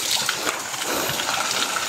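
Spring water in a forest runs and splashes steadily, close by, a continuous gurgling flow with small splatters and no speech over it.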